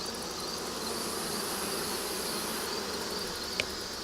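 A steady, dense buzz from many honey bees swarming directly in front of their hive, continuous and even in level throughout, fairly close, with no talking.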